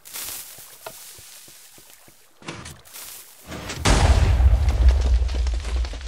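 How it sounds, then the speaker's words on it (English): TNT cannon blast in Minecraft: a few quiet clicks and fuse hisses, then short bursts, then a loud, deep, rumbling explosion that roars and sustains near the end. "I'd say we should shoot some TNT right now"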